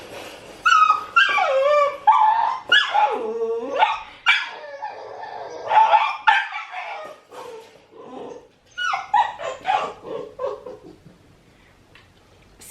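A young foster puppy whimpers, yips and barks almost continuously for several seconds, high and wavering cries close to the microphone indoors with no voices over it.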